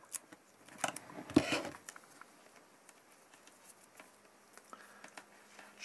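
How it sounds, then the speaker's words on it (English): Tape being peeled off a DJI drone battery during a failure diagnosis: a short burst of crackly ripping near the start, then faint scattered ticks and rustles from handling, close and quiet. "going to pull off some of this tape"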